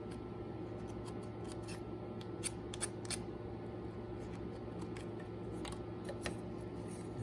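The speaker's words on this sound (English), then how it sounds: "I'm just going to use my pocket knife and just clean out the sawdust real quick" A pocket knife scrapes sawdust out of CNC-cut wood for a small picture stand, making faint, scattered ticks and scratches close by over a steady low machine hum.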